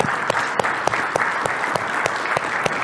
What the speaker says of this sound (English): Let's give a round of applause as well to our gold sponsors